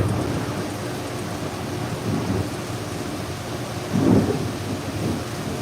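Steady rain hisses throughout while low rumbles of thunder roll in the distance, one swelling a bit louder near the end.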